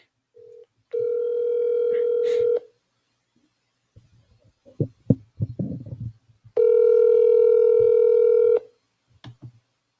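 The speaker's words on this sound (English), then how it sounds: "Anyway, let's get Leia on the phone" Phone tones from a call placed into a live post-show concert stream: a short beep, then a long steady tone, a burst of brief dialing blips, and a second long tone, all clear and close with no talking.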